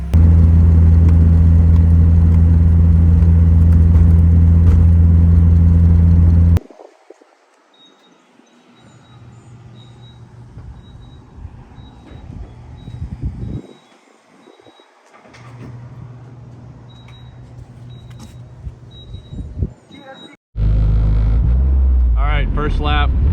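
A car engine loud and steady at first, then dropping to a lower rumble with scattered surges and squeals as it drifts laps on a track, before roaring back up to full volume near the end; voices talk over it.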